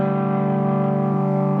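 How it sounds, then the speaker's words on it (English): A sustained, heavily distorted electric guitar chord rings out steadily and loudly, thick with buzzy overdrive and no other sounds. "can you hear that distortion?"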